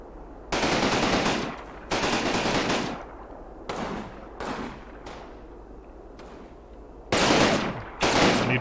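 Heavy machine gun fire in the Combat Mission World War II strategy game: several long, loud bursts alternate with shorter, fainter ones, all separated by brief pauses, and no one speaks.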